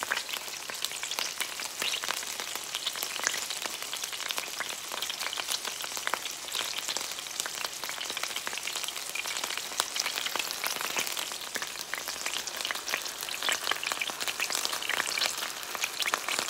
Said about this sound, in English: Let's see if we can get a close-up of that sizzle.